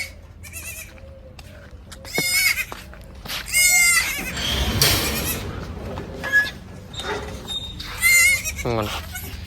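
Tiny Karumbi goats and their young kids bleat repeatedly in a farm pen, high wavering calls overlapping at close range while people talk nearby.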